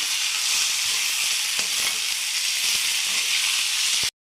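Chopped vegetables and beetroot sizzle and hiss steadily in a hot pan before flattened rice is added, close and loud, with occasional stirring taps before it cuts off.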